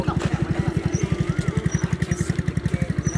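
A red Honda Wave 110 motorcycle engine idles close by, a loud, even, rapid thumping pulse that runs steadily throughout with no talking.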